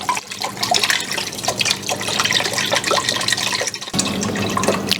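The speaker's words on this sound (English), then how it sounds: "I'm going to add this whole big thing of chicken broth." A whole large carton of chicken broth poured into a cooking pot, a continuous close gurgling splash with a brief break near the end before it resumes.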